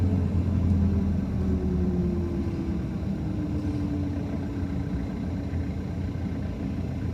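A car drives along a seaside town road toward a shop, its engine giving a steady, loud low rumble with road noise throughout and no talking.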